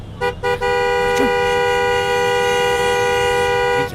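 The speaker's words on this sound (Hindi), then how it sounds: "अर्जुन तू हॉर्न बजा रहा है।" A car horn blares in one long, steady, loud honk lasting several seconds, preceded by two short toots, with traffic rumble underneath.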